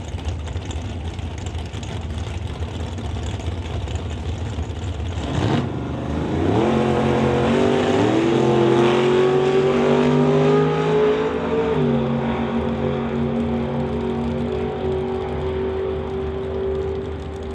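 Two drag racing cars, a 1971 Chevy and a Camaro, launch side by side at a drag strip, a loud engine roar surging up after a sharp burst and climbing through the gears as they pull away, with no talk.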